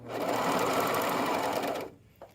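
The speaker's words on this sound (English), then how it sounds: "I'll just serge this as if it was straight with my 1/4 inch clip right there" A serger overlock sewing machine runs at speed while stitching along a fabric edge, giving a loud, steady mechanical whir for about two seconds before it stops abruptly.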